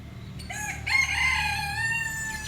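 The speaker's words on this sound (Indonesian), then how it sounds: "Maaf sedikit berisik karena suara ayam." A rooster crows nearby in a full, drawn-out cock-a-doodle-doo that rises and holds for about two seconds over a steady low background hum.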